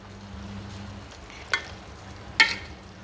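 Mixed vegetables being stirred in a pan over a faint background hum, with two short distinct scrapes of the spoon against the pan.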